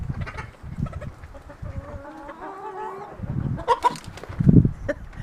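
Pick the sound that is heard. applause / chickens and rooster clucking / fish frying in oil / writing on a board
chickens and rooster clucking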